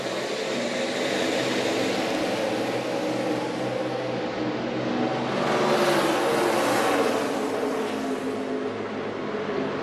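A pack of NASCAR stock cars roaring at the start of the 2013 Sprint All-Star Race, a dense, loud, steady engine drone that swells as the field passes, with no voices.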